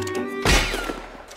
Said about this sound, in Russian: А, выстрел в шляпу.